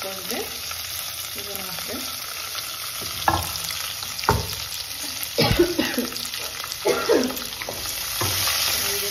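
Onions fry in a pan for jeerige bajji, giving a constant hissing sizzle broken by several sharp clanks and scrapes of a spoon stirring against the pan, near and with no talk.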